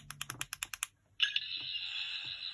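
A fourteenth Doctor sonic screwdriver toy plays its fifth sound: a quick burst of about eight clicky taps, then a sustained electronic whine that holds steady and fades slightly, close and fairly loud with no voices.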